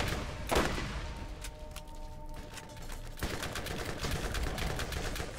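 Rapid weapon fire in the video game Borderlands, a dense continuous burst of shots running the whole time, loud and close, with game effects and a brief tonal hum layered underneath.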